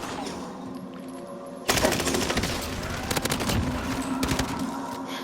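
Sudden bursts of rapid gunfire from a shooter firing out a headquarters window, a dense rattling volley that starts abruptly after quiet and keeps going in clustered rapid cracks, loud and close.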